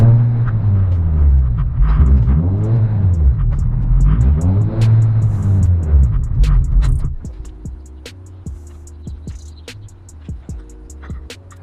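A car on a test drive after fitting an R_fab shifter plate and hybrid shifter: loud engine rumble rises and falls through several rev swells, then drops to a quieter idle-like hum with light clicks.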